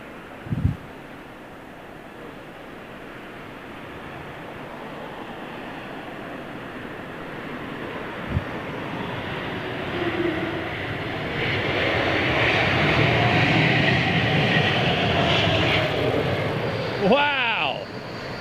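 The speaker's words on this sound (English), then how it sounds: "The old A220." Airbus A220 jet at London Heathrow Airport, its engine roar swelling to a sustained loud rush in the middle before easing, with a short reverse-thrust burst; someone talks over it near the end.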